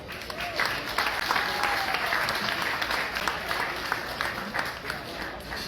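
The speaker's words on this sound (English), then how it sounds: "So let us please have a round of applause for everybody" A roomful of guests at a cancer-research charity kickoff event at Versa applauds steadily, dense clapping with some crowd murmur and voices mixed underneath.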